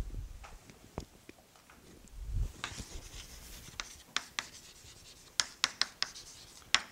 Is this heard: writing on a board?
yes